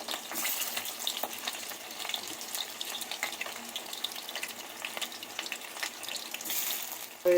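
Baby corn deep-fries in hot oil until crisp, giving a steady, close bubbling sizzle with fine crackles that holds throughout with no voices.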